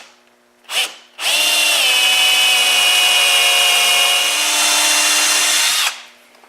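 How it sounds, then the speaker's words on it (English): A power drill bores side holes into a wooden nightstand in one long, loud, steady whine of about five seconds, preceded by a brief trigger blip, with no talking. "I'm just going to drill the side holes now"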